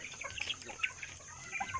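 Chickens on a farm at feeding time, faint scattered clucks and short calls over low background noise, with no talking.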